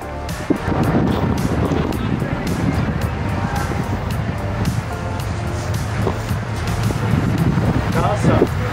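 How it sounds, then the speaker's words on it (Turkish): Steady wind roars and buffets against the microphone outdoors during boomerang throwing, a constant rumbling noise with faint voices and bumps underneath. "Rüzgar çıktı."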